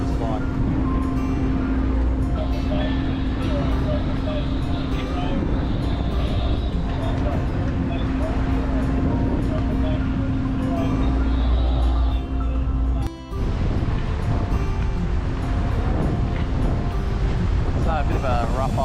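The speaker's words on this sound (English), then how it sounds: "it's a bit of a confused sea unfortunately, but we're making way at about 7 knots" Boat motoring at about seven knots through a rough, confused sea with northeast swell and southerly wind, en route to Port Stephens; a steady engine drone and hum under constant wash and wind, with one brief dropout.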